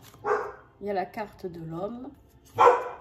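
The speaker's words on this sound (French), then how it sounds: "Je suis désolée pour mon chien, hein, bien sûr, qui discute avec nous, avec ses copains dehors." A dog outdoors gives two sharp, close barks, one at the start and one near the end, with someone speaking in between.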